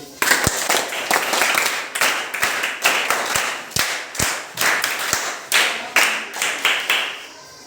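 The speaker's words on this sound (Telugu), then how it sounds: "అంత క్లాప్స్ కొట్టండి." A group of people claps together, a dense run of hand claps with sharp thuds mixed in that comes in rhythmic bursts and stays loud and close throughout, with no talking.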